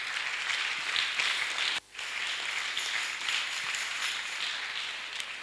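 A church congregation applauds to acclaim Jesus with steady, dense clapping that carries on throughout, dipping briefly once before resuming at full strength.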